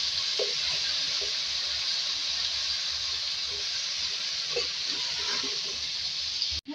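Thick-cut eggplant sizzles steadily in hot oil with salt and ginger, a constant close hiss that carries on with a few faint clinks before ending abruptly.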